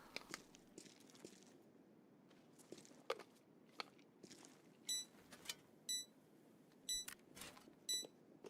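Loud electronic beeps in a shooter video game sound in short repeated bursts, two to three a second apart, over soft clicks, taps and quiet background game noise.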